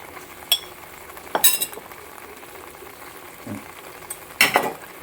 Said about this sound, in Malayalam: 1/2 കിലോ ലിവർ മാരിനേറ്റ് ചെയ്തിട്ട് ഇട്ട് നന്നായിട്ടൊന്ന് ഇളക്കി കൊടുക്കും